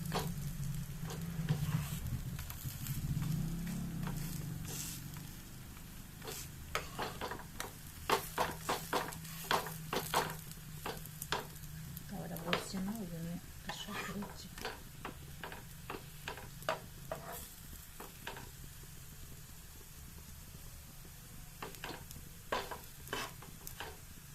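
Drumstick flower fritters frying in hot oil, with a low steady sizzle and a long run of quick, irregular ticking clicks and taps from the utensil against the pan, quiet and close with no one speaking.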